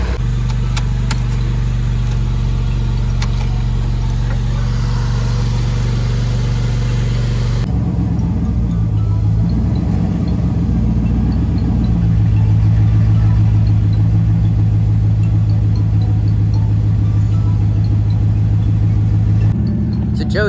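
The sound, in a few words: truck engine idling and revving up and down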